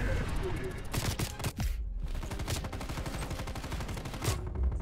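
Rapid bursts of gunfire from Call of Duty: Black Ops Cold War fill the scene, loud and dense with repeated volleys, briefly dropping out before resuming amid game sounds and a talking player.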